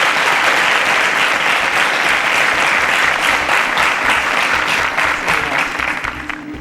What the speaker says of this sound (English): A round of applause for Maxine.